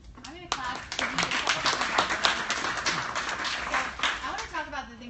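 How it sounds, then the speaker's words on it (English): Irregular bursts of hand clapping at a Tableau user group meeting, fairly close, with voices talking over and around them throughout. "I'm going to clap."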